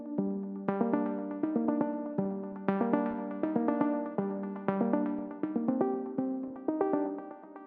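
A synth lead from a techno track plays a repeating plucky pattern, sharp attacks decaying between notes in a steady rhythm, close and dry throughout with no voices.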